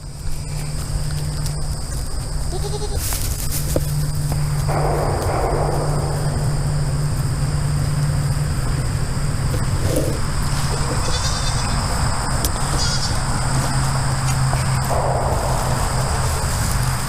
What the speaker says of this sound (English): What you doing, baby goat?